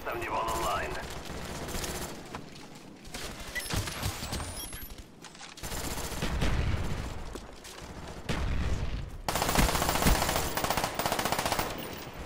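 Uzi fire in the video game Black Ops, with rapid automatic bursts repeating loudly across the whole stretch, mixed with game effects and brief shouting from a player.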